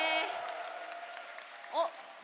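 Audience applause for the band at a live Blue Archive 2nd anniversary event: a fairly quiet, steady patter of clapping with a voice over it and a brief louder vocal burst near the end.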